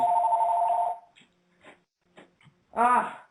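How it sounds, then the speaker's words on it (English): A telephone rings with a steady electronic bell tone for about a second, then goes quiet apart from faint scattered sounds, before a short louder voice-like burst near the end. "My phone doesn't ring all day, but when I have the show, it wants to ring back to back."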